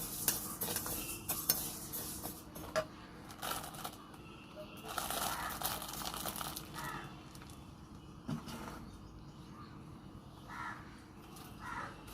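Fish head frying in a pan for Bengali mung dal, a soft, fairly faint sizzle broken by stirring scrapes and clinks of a utensil against the pan, with a crow cawing now and then in the background.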